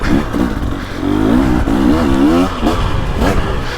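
A 2023 300cc two-stroke dirt bike revs in second gear on a tight woods trail, its engine loud and close, rising and falling in pitch with throttle blips and some clatter.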